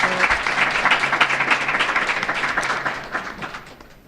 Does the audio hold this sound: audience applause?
yes